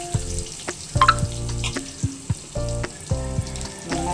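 Chopped onions go into hot oil with curry leaves for a Tamil-style chicken gravy, frying with a steady close sizzle and crackle broken by several sharp stirring clatters.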